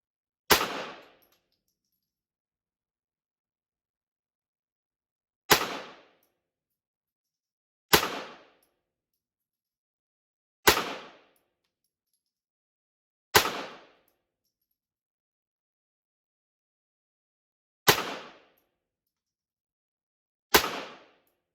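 Seven sharp, loud .22 shots from a 1948 Colt Woodsman pistol, fired singly at uneven intervals of roughly three to five seconds, each crack ringing briefly before silence, with no talk.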